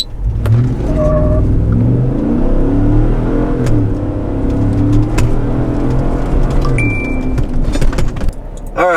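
A pickup truck engine with an aftermarket intake, on 35-inch tires and not re-geared, roars as it accelerates hard from 0 to 60, revving up through the gears at close range, loud and sustained.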